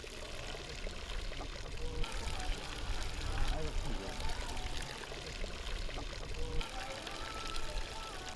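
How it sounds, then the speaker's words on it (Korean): Natural hot spring water from 700 m down in granite near the sea gushes hard from a tap with steam, making a steady, dense rushing hiss that holds from start to finish. "수도꼭지를 틀자 힘찬 물줄기가 뜨거운 수증기와 함께 뿜어져 나온다."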